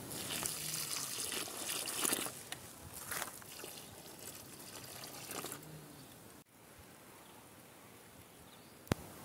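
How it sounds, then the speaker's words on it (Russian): About two to three litres of water poured into each planting hole for cucumbers set in black plastic mulch, a steady splashing pour that eases into a softer trickle, with a brief click near the end. "Наливаю в каждую лунку примерно по 2-3 литра воды."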